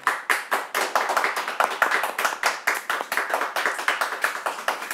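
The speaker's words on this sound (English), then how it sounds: "I think everyone here would like to give you a round of applause for what you've done over the years." A small group of people clap for a departing colleague, the individual hand claps distinct and close, in an uneven but steady rhythm that runs throughout without talk.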